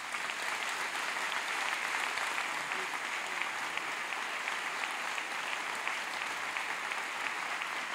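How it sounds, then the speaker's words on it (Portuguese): A church congregation claps together in steady, sustained applause, a dense even patter heard from within the crowd and fairly faint overall, with no pauses across the stretch. "Eu vou pedir só que a gente aplauda o nome de Deus nesta hora."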